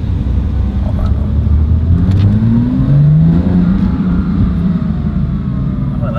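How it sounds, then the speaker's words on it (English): A sports car engine revs loud and close, its exhaust note rising and falling in a low, throaty drone that continues throughout. "Oh, I like the exhaust."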